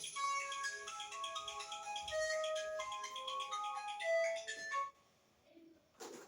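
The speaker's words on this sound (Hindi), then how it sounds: "एक मिनट थोड़ा फोन आ रहा है" A melodic phone ringtone plays for about five seconds, fairly loud and close, then stops, followed by a brief rustle.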